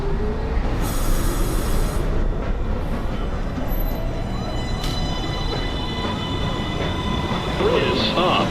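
A New York City subway 1 train rumbles steadily at the 207th Street station with faint squeals and tones, a continuous loud rail roar throughout.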